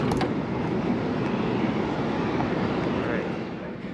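Cessna 402 twin-engine airplane operated by Cape Air on an O'Hare flight, its steady engine and cabin drone loud and continuous throughout, easing off slightly near the end.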